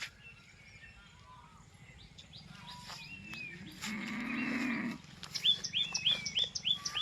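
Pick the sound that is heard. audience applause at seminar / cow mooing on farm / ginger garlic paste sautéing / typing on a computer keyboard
cow mooing on farm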